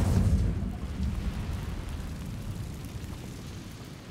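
Incendio fire spell cast in Hogwarts Legacy: a loud whooshing burst of flame with a deep rumbling roar at the start, decaying into a sustained crackling low rumble.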